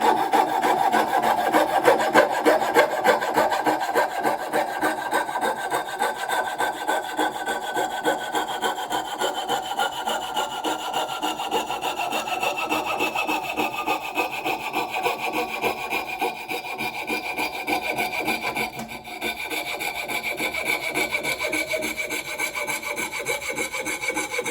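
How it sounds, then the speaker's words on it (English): Hand saw cutting across wood to shape a spatula, fast rhythmic rasping strokes repeated steadily and close up for a long stretch, with a brief pause near the end, no talking. "we're going to saw across and gently make our curve in"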